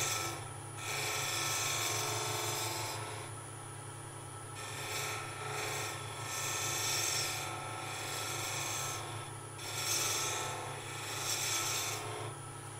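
A woodturning gouge cuts a wooden goblet spinning on a lathe, making a steady rasping, scraping hiss over the lathe's constant low motor hum. The cutting swells and fades in passes of a few seconds each, with no talking.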